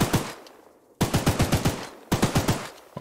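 An automatic gun in the video game Choo Choo Charles fires in three loud, rapid bursts of evenly spaced shots, each burst cutting off sharply.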